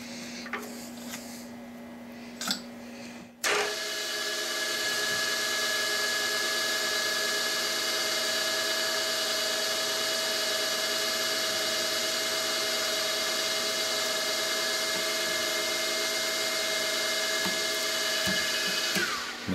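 A small machine drill with a 3.1 millimeter bit boring through metal while making a sine bar, a steady loud whine with sustained tonal hum after a brief start-up with a few clicks.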